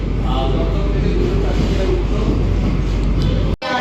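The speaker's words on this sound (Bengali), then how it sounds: "ট্রেন ছেড়ে বেরোচ্ছে দমদম জংশন স্টেশন থেকে।" Sealdah–Kalyani AC local train pulling out of Dum Dum Junction station on its first day, heard from onboard as a steady close rumble and rolling hiss with faint murmur of passengers, cut by a brief dropout near the end.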